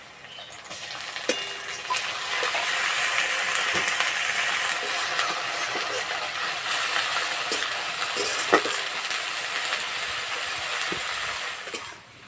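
Ginger garlic paste frying in oil with onions and whole spices, a constant close sizzle with scattered scrapes and light clinks from stirring in the pan.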